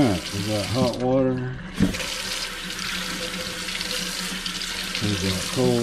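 A newly installed kitchen faucet runs hot water into a sink, a steady broadband rush of water with someone talking briefly at the start and end.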